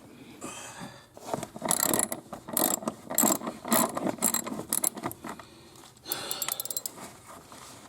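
A ratchet wrench loosens the bolts holding a car's front seats during an interior cleaning, producing bursts of rapid metallic clicking with pauses between them, close and fairly loud, with no talking.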